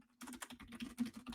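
Computer keyboard shortcut keys pressed in a quick series of light, sharp taps, close and clear with no talking, while reviewing a financial model.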